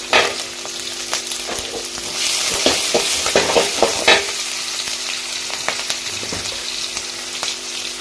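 Onions sautéing in a pan for potato masala, a steady close sizzle of frying with stirring scrapes and clatters of a spoon against the pan, loudest in the middle stretch.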